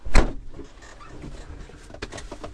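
A vehicle door opens after a night of below-zero cold, a sharp close thump and latch clunk at the start, followed by faint rustling and a couple of soft knocks.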